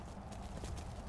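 Horse hooves clip-clop in Skyrim, a brief run of soft, muffled steps at a steady trot that stays faint and close, with no voices.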